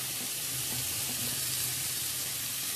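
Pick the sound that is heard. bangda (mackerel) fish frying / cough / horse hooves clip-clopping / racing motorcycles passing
bangda (mackerel) fish frying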